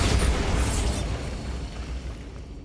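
A Bombarda spell blast in Hogwarts Legacy, a loud booming explosion with a crackling burst at the start that rumbles on and slowly fades.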